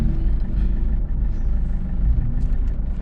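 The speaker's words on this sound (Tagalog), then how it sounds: "maagang napasabak tayo sa traffic dito ngayon" Heavy road traffic on Dr. Sixto Antonio Avenue in Pasig, heard from inside a vehicle: a steady, loud low rumble of engines with faint brake and horn touches and no talk.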